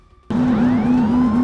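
A police car siren blares during a chase on a Georgia highway, switching on abruptly and wailing loud and close in a steady rising-and-falling cycle.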